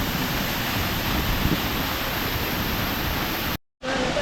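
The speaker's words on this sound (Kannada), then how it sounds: "ಮೇಲೆಯಿಂದ ನೀರು ಬೀಳ್ತದೆ" Water pouring down at Vibhuthi Falls in Karnataka, a loud, steady broadband roar that fills the scene without pause, then cuts out briefly near the end before resuming.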